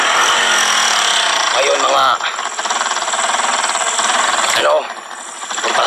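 A motorcycle engine running rough and sputtering, a buzzing rattling drone close by with a few revs, while people talk over it.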